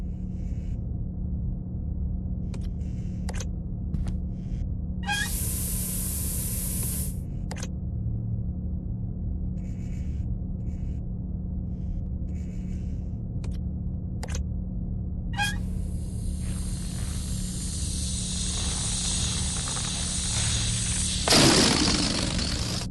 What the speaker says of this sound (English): Genuine British compressed air.